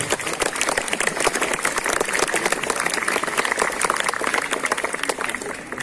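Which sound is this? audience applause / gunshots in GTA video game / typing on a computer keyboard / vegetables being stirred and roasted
audience applause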